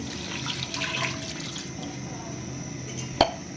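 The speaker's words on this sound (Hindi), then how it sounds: "और अब इसमें डालें पानी।" Water runs and splashes steadily into a cooking pot, ending with a short clink near the end.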